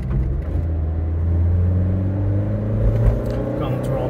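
A 1989 Acura Integra RS engine drones loud and close as the car is driven and shifted up through second, third, fourth and fifth, a steady low rumble with slight rises in pitch, with talking over it.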